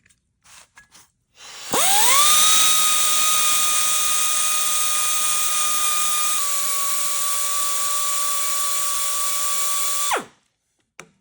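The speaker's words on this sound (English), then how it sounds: "you just want to sand it, grind it down until you just see the head of that rivet disappear" Air belt sanding file grinding down the rivet heads on a car hood hinge, a loud continuous high whine that spins up sharply, holds steady for about eight seconds, then cuts off.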